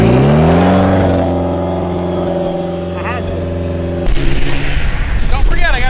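A car revs hard during a burnout on the track, shredding its tires: a loud sustained engine roar that dips, then breaks into a rougher, gritty burst near the end, with voices talking over it.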